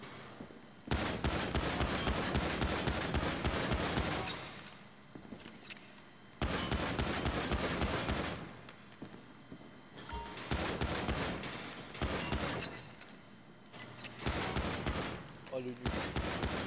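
Pistol fire at a GTA V shooting range in the video game comes in several long stretches of rapid, steady shots separated by short pauses, with a voice speaking at times.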